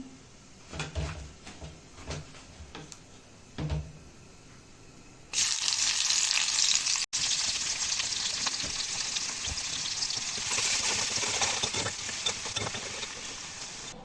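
Onions fry into birista for mung pulao, first with a few scattered clatters and a quiet sizzle, then a loud, steady sizzle that runs on to the end.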